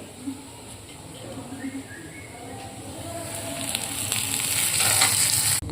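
Onion and a ground paste frying in a pan for a cabbage dish, a soft sizzle that builds louder toward the end, with faint background sounds and no speech.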